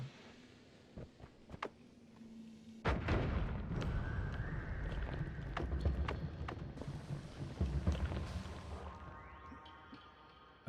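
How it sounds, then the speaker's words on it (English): A slimy egg blows up in the video game Noita: a sudden loud blast followed by several seconds of rumbling, crackling debris noise with scattered sharp ticks. "I think that's gonna be big enough explosion."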